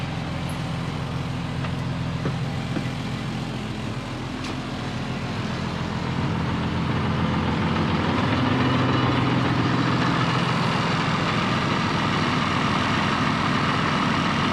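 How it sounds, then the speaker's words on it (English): School bus engine left idling, a constant deep diesel rumble with steady low hum that grows slightly louder partway through, heard close and alone without talk. "Leaving the vehicle on, we're going to go outside."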